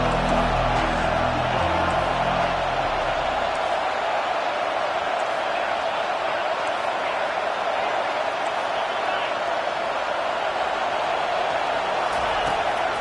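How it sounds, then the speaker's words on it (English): Dense college football stadium crowd roaring steadily on a third-down defensive stand, a broad continuous wall of cheering and whooping at constant high level for the whole stretch, with low rumble fading after the opening seconds. "Decibels rising as the crowd gets behind this defense on 3rd down"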